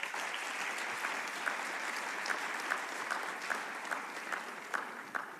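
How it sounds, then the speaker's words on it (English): A summit audience at the 3i Africa Summit applauds in a steady, moderately quiet wash of many hands, with a few sharper individual claps popping out through the rest. "Let's give them an applause."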